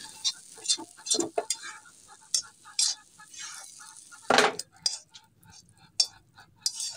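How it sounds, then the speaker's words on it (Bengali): Hilsa fish frying in a pan in a home kitchen, a soft sizzle under repeated scraping stirs and clinks of a utensil against the pan, close but fairly quiet, with a few louder knocks. "তো ইলিশ মাছটা ভাজাটাও দেখেন আমরা কিভাবে ইলিশ মাছ ভাজি"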